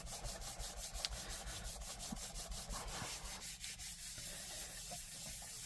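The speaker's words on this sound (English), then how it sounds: "Give it a good burnish to transfer those little flakes." Card is rubbed firmly back and forth across a surface to burnish on small flakes, giving a faint, rhythmic scraping that carries on steadily throughout.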